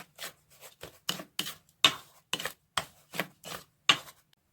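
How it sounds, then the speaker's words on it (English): Dry cake ingredients for a chocolate cake mixed in a bowl, a rhythmic series of about a dozen close scraping strokes, evenly spaced and fairly quiet. "we will mix all the dry ingredients together"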